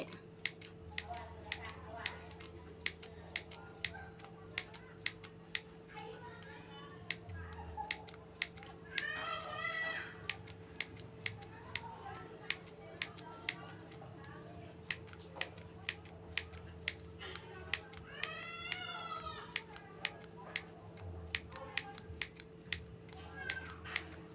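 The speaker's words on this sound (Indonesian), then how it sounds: "Kita gunting-gunting kecil-kecil sampai selesai." Scissors keep snipping plastic mineral water bottle strips into small pieces in a long run of crisp, regular clicks. Now and then a blade scrapes or crinkles the plastic, and a low hum runs steadily underneath.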